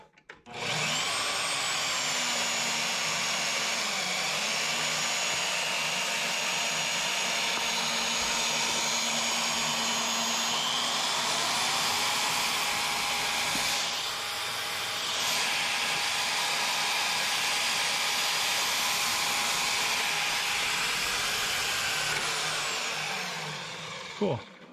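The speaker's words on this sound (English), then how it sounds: "let's crank the space heater up to full bore and turn this thing on" Space heater cranked to full power in a workshop, giving a loud, steady whooshing blower roar that runs unbroken for about twenty seconds, with faint clicks at the start and end.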